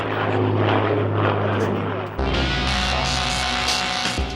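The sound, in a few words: Avro Lancaster bomber propeller engines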